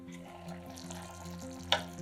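Macaroni simmering in liquid in a lid-covered frying pan over low heat gives a steady close sizzle and bubble, with one brief sharper crackle near the end.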